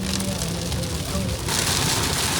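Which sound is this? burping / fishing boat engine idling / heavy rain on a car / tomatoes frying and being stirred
heavy rain on a car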